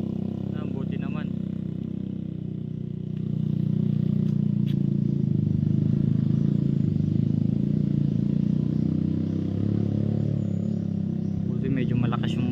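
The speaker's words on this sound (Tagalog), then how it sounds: "Medyo malakas yung motor." A motorcycle engine runs loudly and steadily nearby, a continuous low rumble that grows stronger partway through, with people talking over it.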